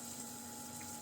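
Country olive oil poured into a cooking pot for a macaroni dish, a steady liquid gush running close and continuous for about a second with no talk.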